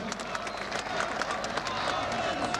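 Warm applause from an audience after a wind orchestra performance at an autumn brass band festival in Brodnica, a continuous roomy wash of clapping with crowd murmur mixed in, steady and moderately loud.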